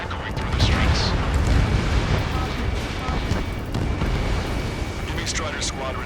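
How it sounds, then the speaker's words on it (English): Dense, rumbling Ace Combat 7 battle noise with gunfire, booming blasts and a continuous roaring wash of jets, loud throughout, with faint voices mixed in. "gunfire and the roar of jets echoing through the streets"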